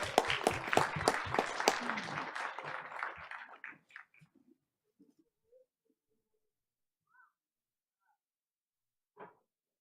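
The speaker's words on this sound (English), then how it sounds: "Let's give them one more round of applause." A burst of applause from a group at a Board of Education meeting awards fades out over a few seconds, followed by near silence with a couple of faint isolated sounds.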